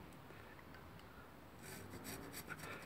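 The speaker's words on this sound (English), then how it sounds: "Clean this bit off as best I can with a blunt chisel." A blunt chisel scrapes clean a metal mitre plane under construction in a workshop, a soft steady rasping that grows louder and more gritty in the second half, with several close strokes and no talk.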